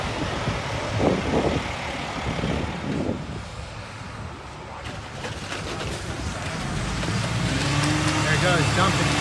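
Dump trucks unload flood mudslide mud in Southern California, a heavy engine rumble building to a loud, broad roar by the end, with birds and faint voices in the background.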